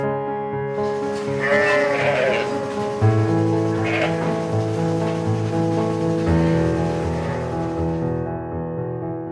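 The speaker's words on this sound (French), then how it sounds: "À la fin de la traite, les brebis sont relâchées et s'en retournent vers la bergerie pour laisser place aux 24 suivantes." Milked ewes bleat repeatedly as they return to the sheepfold at a dairy farm, several loud, overlapping calls near and far over a steady background rumble.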